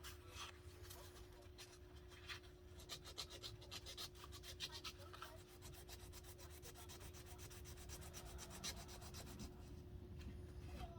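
A tiny knife rubbed with 320-grit sandpaper while clamped in a vise, making faint rhythmic scratchy strokes close by, with a quicker, steadier run of strokes through the middle and a steady low hum underneath.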